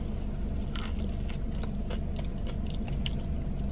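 Someone bites into and chews a Subway pizza sub topped with jalapenos, banana peppers and buffalo sauce, with close, repeated crunchy bites and wet chewing over a steady low background hum, no talking.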